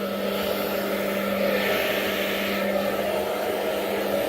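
Hair dryer blowing heat onto a beard for straightening, a steady close whooshing airflow with a constant motor hum, loud and unbroken with no talk.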